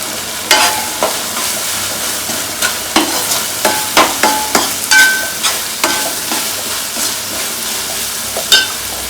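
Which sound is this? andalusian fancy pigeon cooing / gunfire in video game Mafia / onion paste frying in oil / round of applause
onion paste frying in oil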